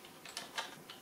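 A few quick keystrokes are typed close up on a computer keyboard with an English layout while a command is entered, producing soft, irregular clicks in otherwise quiet surroundings.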